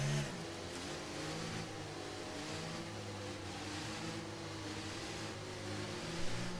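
F1 race cars in a video game slow under the safety car at the Australian Grand Prix, giving a steady, layered engine drone that hums on with little change.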